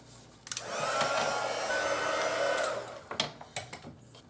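A heat tool blows a steady whooshing stream of hot air onto a tumbler turning on a cup turner, running loud for about two and a half seconds before cutting off, followed by a few light clicks and handling knocks.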